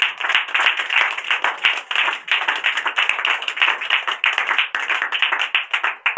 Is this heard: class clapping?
yes